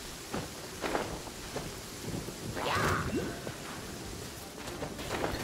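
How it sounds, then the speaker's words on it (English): Thunder from lightning in the video game Genshin Impact rumbles and cracks over steady rain, swelling to a louder peak midway amid scattered impacts, with no talking. "Ooh, that's a lightning."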